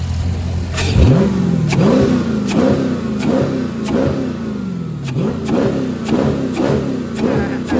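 A Dodge Challenger 392 Scat Pack V8 fitted with a loud aftermarket intake revs repeatedly, each blip swelling and falling back in a steady rhythm of about one per second, loud and close with no talk.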